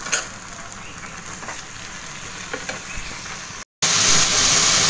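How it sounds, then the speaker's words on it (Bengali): Malabar spinach (pui shak) frying in a pan, a steady close sizzle and hiss with occasional stirring scrapes, briefly cutting out before resuming brighter and louder, no talking. "এই তো শাক ভাজি করতেছি, পুঁই শাক সিদ্ধ বসাইছি।"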